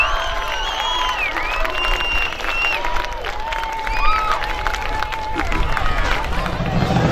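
A stadium crowd at a 2016 Moffat County high school football game applauds and cheers for military veterans and active-duty members, a continuous, distant wash of clapping and raised voices with crowd chatter throughout.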